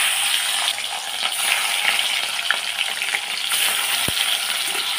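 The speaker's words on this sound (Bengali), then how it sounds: "আমি মাছটা ভেজে নেব" Fish frying in hot oil while making a rui-style curry: a steady, close, continuous sizzle with faint crackles and one brief knock near the end, no talking.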